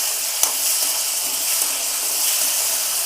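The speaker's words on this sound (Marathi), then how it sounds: "आपण हा मिक्सरला बारीक केलेला कांदा ह्या तेलात टाकून घेतलेला आहे" Mixer-ground onion fries in hot oil in a kadhai for homemade hair oil, giving a loud, steady, close sizzle with faint stirring clicks.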